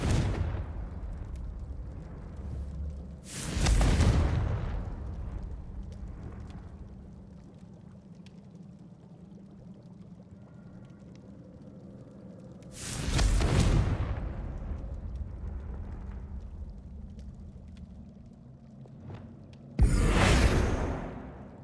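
Three loud booming blasts from Bombarda and Confringo explosion spells in Hogwarts Legacy, spaced about nine and seven seconds apart, each a sharp burst with a rumbling tail over a low ambient hum.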